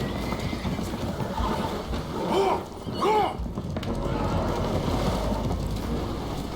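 Spooked horses neighing aboard a damaged, leaking boat in Red Dead Redemption 2, two shrill whinnies in quick succession rising over steady rushing water and wind noise.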